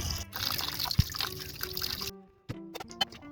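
Water splashes and trickles steadily while raw chicken is rinsed, then stops and leaves a few scattered drips and clinks close by.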